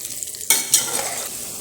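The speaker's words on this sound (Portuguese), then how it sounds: "Refogue a calabresa até elas ficarem bem douradas." Calabresa sausage sautéing in a pan, a steady soft sizzle with a sharp burst of frying as it stirs, then a second flare of sizzling that settles into a continuous crackle, close and fairly quiet, no talk.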